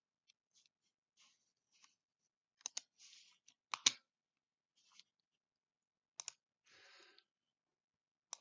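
Calculator buttons pressed in short, sparse clicks, a few quick pairs and small clusters spread out with gaps, quiet and close with no talking.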